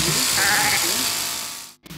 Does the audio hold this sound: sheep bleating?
yes